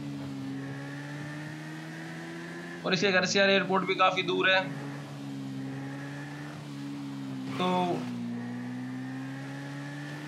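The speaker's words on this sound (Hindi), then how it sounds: "बहुत ही मक्खन चल रही है बाइक, एकदम स्मूथ, मज़ा आ रहा है बाइक चलाने में" A KTM RC8R 1190 superbike ridden in GTA 5 holds a steady, smooth engine drone at moderate level, humming continuously beneath someone talking in two bursts.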